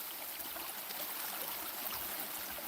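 Water trickling into a freshly dug hole on a homestead, a steady, hissing wash of running water that stays constant and fairly soft, with no talking.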